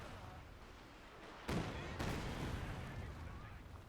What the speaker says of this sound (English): here comes the barrage